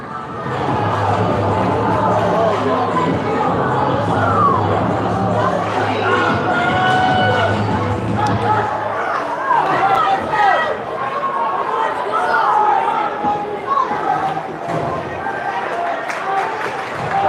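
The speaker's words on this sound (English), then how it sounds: "that gets the Barnstable crowd up and going" A high school hockey crowd at Barnstable's home rink cheers and roars loudly and continuously after the tying goal, with a commentator talking over the noise.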